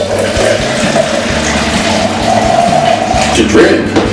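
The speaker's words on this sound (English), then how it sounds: "This is hot water. Pour it in here." Hot water is poured into a container, a steady close gurgling stream lasting throughout, with a brief change in tone near the end as it fills.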